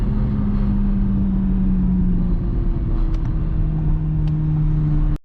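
A C8 Corvette Z06 in performance sport mode holds its revs at the 4,000 RPM launch control preset, a loud, close, steady engine drone that stays even throughout and then cuts off abruptly.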